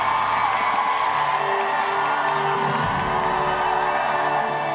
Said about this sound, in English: Please give another round of applause to Chairman Lee